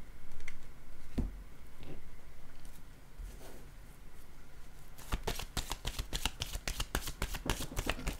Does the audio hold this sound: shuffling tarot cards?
yes